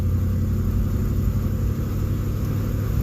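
A vehicle engine labours uphill in fourth gear at walking pace, a steady loud low rumble that holds constant throughout with no break or talk.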